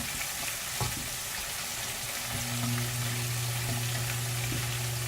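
Potatoes fry in a pan with a steady, close hiss and crackle throughout, while a low hum comes in partway.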